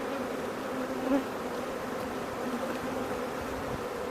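Honey bees buzz steadily and fairly loud throughout during an open hive inspection, a continuous droning hum with a single bee swelling briefly closer around the middle.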